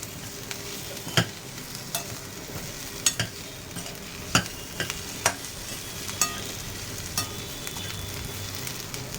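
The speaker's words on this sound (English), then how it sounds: "Mix it up well." A phodnichi poli mixture of leftover chapati pieces sizzles softly in a pan while a spoon stirs it, giving irregular scraping clinks and taps over a low, steady frying hiss.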